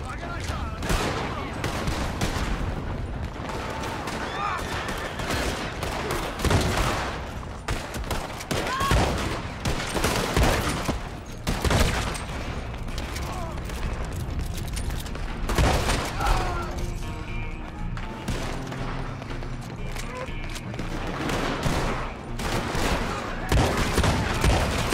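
Gunfire in a Saint Denis shootout in the video game Red Dead Online, with dense, rapid, overlapping shots and bangs continuing steadily and loudly throughout.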